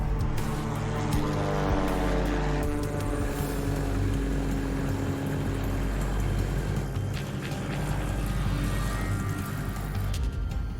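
A propeller aircraft engine drones loud and steady on a test flight before a long overseas ferry trip, a continuous close roar with a slight rising whine early on.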